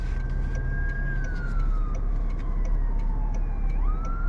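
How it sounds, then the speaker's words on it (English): An ambulance siren wails at a distance over steady road traffic, heard from inside a 2023 Toyota Crown, its pitch sliding slowly downward, then rising again near the end. "Listen, right here's an ambulance."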